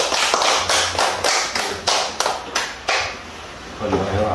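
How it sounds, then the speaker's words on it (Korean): A family claps together during a Chuseok holiday worship service at home, about ten sharp, evenly spaced claps in a steady rhythm, with faint voices in the background. "하나님 앞에 박수"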